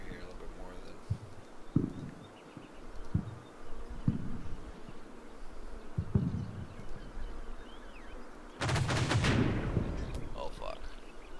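Mortar shells land in a Combat Mission World War II battle, a series of dull thuds at irregular intervals followed by a louder, sustained blast, while someone talks and swears.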